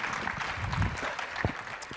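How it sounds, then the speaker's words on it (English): A conference audience claps for a presenter in a short round of moderate applause that stays fairly even and then fades, with a few louder claps standing out. "Everybody, big hand."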